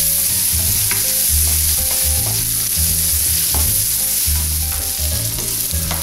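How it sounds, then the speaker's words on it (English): Mushrooms browning in a hot pan for beef bourguignon: a loud, constant sizzle with rhythmic scraping and stirring strokes close by throughout. "this is right about where I want the mushrooms to be, so I'm going to take these out of the pan"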